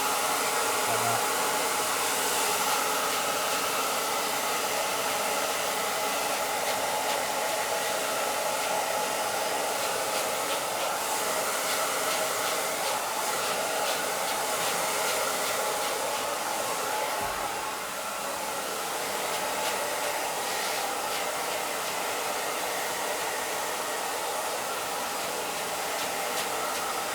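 A hair dryer blow-drying men's hair, producing a loud, steady, close airflow roar that runs unbroken throughout with only slight shifts as the dryer moves.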